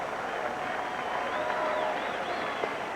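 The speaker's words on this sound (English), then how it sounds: "Some of the fans starting to come up with that rhythmic applause on the 0-2 count" A baseball stadium crowd keeps up steady applause during a 1988 Mariners game, a continuous distant wash of clapping and crowd noise with no clear beat.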